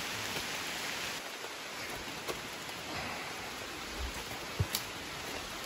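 Rain falls steadily in the Malaysian rainforest of Taman Negara, a continuous hiss of drops on foliage with a few sharper nearby patters and no voices.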